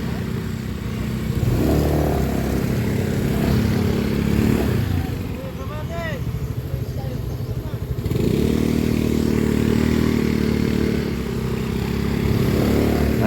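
A Skygo Lance 150 motorcycle ridden on a dirt trail, its engine droning loudly up close with revving surges, rattles and scrapes from the rough ground, easing off midway before pulling hard again, with a voice talking over it.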